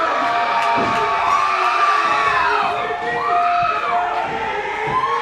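A wrestling crowd at a PWF Crystal Coast championship event cheers loudly and continuously, with shrill whoops and whistles rising above the roar.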